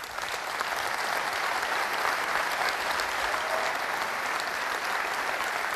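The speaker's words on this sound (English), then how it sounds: "So if we can have a round of applause for all the contributors." A conference audience at DockerCon 2017 claps in steady, dense applause that holds at an even level for the whole stretch, with no voices breaking through.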